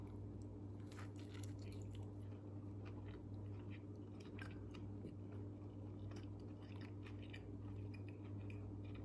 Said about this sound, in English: Let's see what happens when I take a bite out of it.